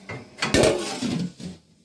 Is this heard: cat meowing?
no